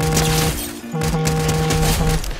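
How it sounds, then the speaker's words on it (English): Rapid gunfire rattles in a shooter video game, loud and dense with sharp repeated shots over a continuous tonal game soundtrack. "How do you miss all your shots, bro?"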